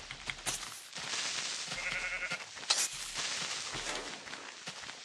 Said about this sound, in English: I don't think there's any point in killing these sheep